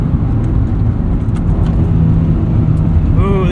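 A 1995 Honda Civic Si's 1.6-liter single overhead cam engine hums and rises in pitch as the car accelerates, heard from inside the cabin with a steady road rumble underneath.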